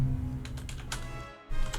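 Rapid clicking keystrokes on a computer keyboard, heard close over a steady low hum, with a brief pause before the typing resumes.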